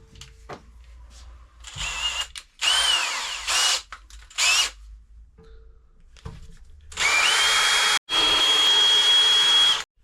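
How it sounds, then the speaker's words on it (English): A power drill bores holes through big steel girders for mounting actuators, in several loud, sustained whining bursts separated by pauses, with the longest run near the end. "we're just going to start by getting these holes drilled to mount the actuators"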